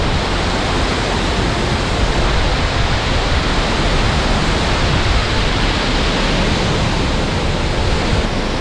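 A loud, constant roar of falling water from Padang waterfall in Ulu Baram fills the whole stretch, dense and unbroken with no voices.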